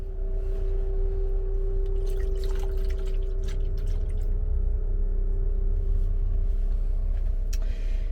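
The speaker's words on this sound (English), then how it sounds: "I usually just dump the rest of this container into the toilet." Pink RV antifreeze glugs and trickles from a container into the toilet of a 2017 Roadtrek Simplicity camper van, a close, continuous pour over a steady low hum.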